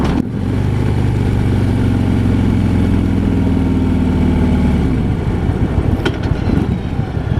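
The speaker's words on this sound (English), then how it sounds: "engine braking is real nice." A 2015 Harley-Davidson FLHTP motorcycle engine on a test ride, a steady loud low rumble that holds for about five seconds, then eases off into rougher, broken wind and road noise.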